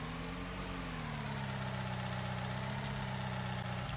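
A Manitou telehandler's engine idling in Farming Simulator 19, a steady, loud, droning mechanical hum that holds even throughout with no voices.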